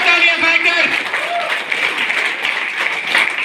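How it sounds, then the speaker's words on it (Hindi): An indoor crowd at a network marketing gathering breaks into loud applause that fills the whole stretch, dense and sustained clapping that stays near and steady from start to finish. "जोरदार तालियां"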